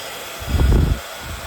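An embossing heat tool switched on for a brief, steady blowing whoosh while melting silver embossing powder on a card, close and fairly loud, lasting about half a second.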